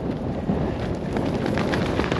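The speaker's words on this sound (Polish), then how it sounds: "Słyszycie, jak wieje?" Strong wind roars and buffets a microphone outdoors, a steady low rumble with gusty fluttering throughout.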